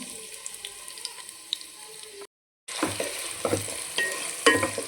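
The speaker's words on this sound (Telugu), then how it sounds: "ఆయిల్ వేడెక్కింది కదా ఆనియన్స్ ఫ్రై చేసేసుకుందాం ఇప్పుడు మనం" Onions frying in hot oil for fish biryani, a close crackling sizzle with scraping stirs, broken by a brief moment of silence before the frying resumes louder.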